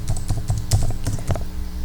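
Rapid typing on a computer keyboard while editing slide text in PowerPoint 2010, a quick irregular run of close, crisp key clicks with no voices over it.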